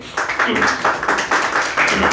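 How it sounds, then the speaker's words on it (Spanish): Church congregation applauding together, a dense burst of rapid hand claps following an abrupt start and continuing steadily at close range. "Pueden dar una fuerte ofrenda de palmas a nuestro buen Dios."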